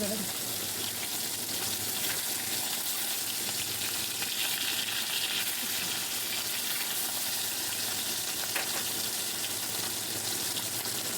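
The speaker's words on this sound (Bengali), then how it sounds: "কালা জিরেটা দিয়ে দিলাম তেলে।" Black cumin seeds sizzling in hot oil, a dense, steady frying hiss that carries on throughout at close range.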